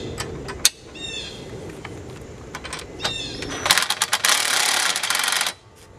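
Wrench tightening bolts while installing a flap on a 2020 Scag V-Ride II 32-inch mower, close metallic clicks and ratcheting scrapes ending in a louder burst of rattling.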